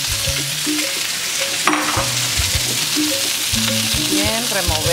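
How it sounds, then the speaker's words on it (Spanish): Large chunks of onion and rocoto pepper fry for a sofrito in a pan, a loud, steady sizzle under a patterned musical background, with a brief scrape partway through. "empezamos el sofrito entonces. Ya. Así en pedazos grandes la cebolla y el rocoto"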